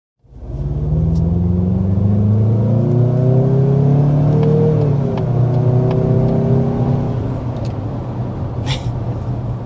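A 2026 Mazda CX-50 with the 2.5-liter turbo engine accelerates hard to 60 mph on regular fuel, a loud close engine drone rising in pitch through several gear changes, then settling into a steady cruising rumble.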